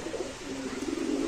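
A pigeon coos at a pigeon market, soft low rolling coos repeating in a steady rhythm under a faint general hum, fairly quiet and close.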